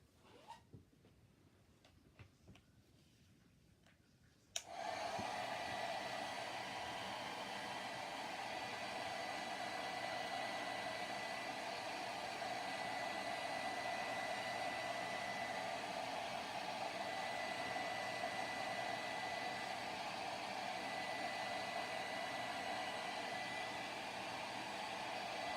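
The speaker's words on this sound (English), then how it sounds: "I'm going to get the blow dryer and put on this." A blow dryer switches on abruptly a few seconds in and runs in a steady, loud, unbroken whoosh, drying a Holly Jolly Christmas hand towel, after a quiet stretch of faint handling noise.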